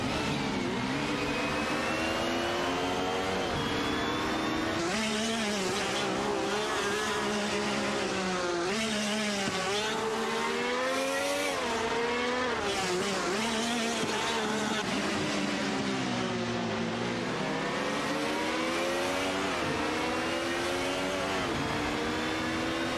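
Race car engines in a racing video game, including a BMW M3 GTR Evo, a constant loud whine with pitch repeatedly climbing through gears and dropping, several cars overlapping closely.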